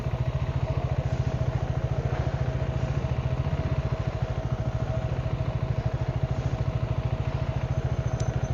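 A KTM 390 Adventure motorcycle idles steadily nearby, its single-cylinder engine giving a fast, even thumping pulse that holds unchanged throughout with no voices.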